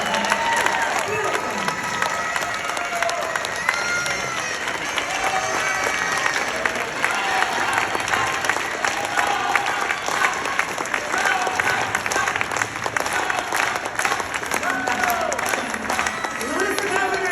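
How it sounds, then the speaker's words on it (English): An audience at a fundraiser applauds steadily and loudly for a sustained stretch, with scattered cheers and voices mixed into the clapping. "Another big round of applause for our future governor of Washington State, Miss Alona."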